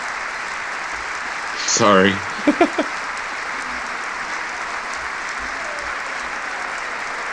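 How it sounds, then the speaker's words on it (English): Steady, distant applause from a State of the Union address chamber runs as a constant wash, with a brief spoken remark and a few short voice sounds over it early on. "Schumer's clapping."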